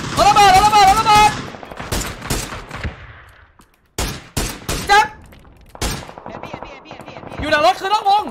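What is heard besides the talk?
gunfire in PUBG video game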